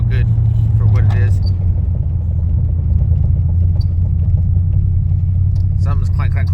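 Inside a moving Fox body car, a loud low road rumble and engine drone continue steadily as it rolls over bumps, with people talking over the noise.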